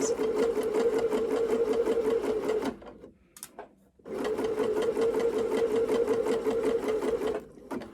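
A sewing machine runs steadily while stitching a 1.5 cm dress seam, with two long continuous bursts of rapid, even needle chatter broken by a short pause near the middle; close and loud, with no voices.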